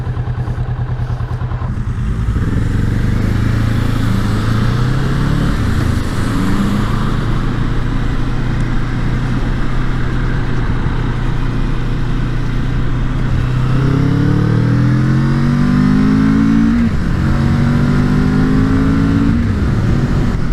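A Kawasaki Vulcan 650 motorcycle rides along a road in a race to buy doughnuts, its engine droning loudly and steadily throughout with rising tones as it accelerates through the gears.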